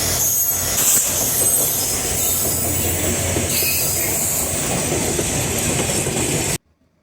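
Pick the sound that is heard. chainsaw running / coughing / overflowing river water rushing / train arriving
train arriving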